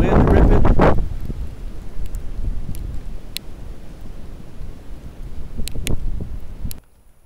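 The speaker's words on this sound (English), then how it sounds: "Can you hear that wind ripping?" Strong wind rips across a winter wilderness camp at a lean-to bushcraft shelter, a loud gust at the start easing into steady rushing and buffeting against the microphone, with faint rustling throughout.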